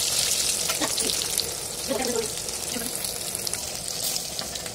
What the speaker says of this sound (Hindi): सो फ्रेंड्स देखो तो मम्मी ये माछ भाजुचे।